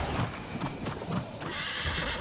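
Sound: horse neighing and hooves in video game New World

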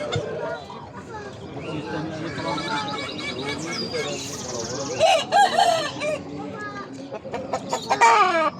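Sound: Indian game roosters crowing at a poultry market

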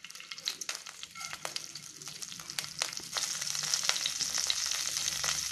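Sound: fennel seeds spluttering in hot oil

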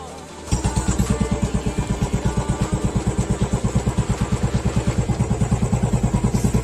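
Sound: Royal Enfield Standard 350 motorcycle engine starting

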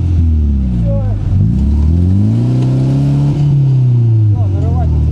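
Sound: off-road car revving, wheels spinning in mud

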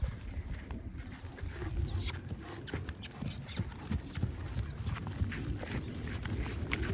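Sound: horse hooves walking

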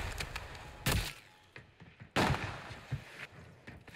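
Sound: sniper rifle shot in Warzone video game

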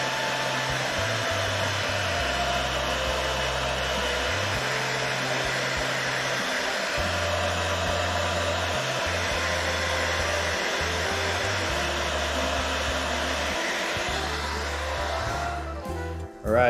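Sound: blow dryer drying paint on a crankbait lure

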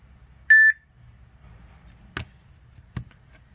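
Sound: smartwatch calling a phone, call tone beeps

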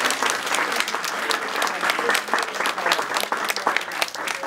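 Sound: audience applause for museum display speaker

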